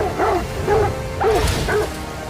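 Dog barking in the opening of Metal Gear Solid V: Ground Zeroes, four close, loud, evenly spaced barks with a slightly yelping edge, heard alone without talk.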